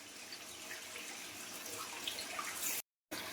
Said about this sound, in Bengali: আমি এই যে কল চালিয়ে জল ফেলছি